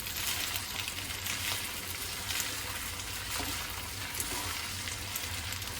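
Continuous close sizzle of food frying in olive oil in a pan for spaghetti, a dense steady crackle with occasional stirring and no talking.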